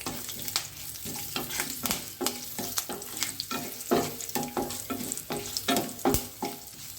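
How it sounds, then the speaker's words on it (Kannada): Hot oil sizzles loudly and steadily as turmeric, asafoetida and curry leaves are tempered, while a spoon scrapes and stirs in sharp repeated strokes against the pan. "ಅರಿಶಿನ ಪುಡಿ ಇಂಗು ಮತ್ತು ಕರಿಬೇವು ಚೆನ್ನಾಗಿ ಒಗ್ಗರಣೆ ಆಗಲಿ"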